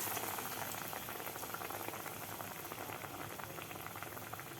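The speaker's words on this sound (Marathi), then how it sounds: "बेसन पिठामध्ये अशा प्रकारे व्यवस्थित बुडवून तेलामध्ये सोडायचं आहे" Besan-batter-coated batata vada frying in hot oil gives a continuous, fairly quiet bubbling and crackling hiss, dense and even throughout with no voices.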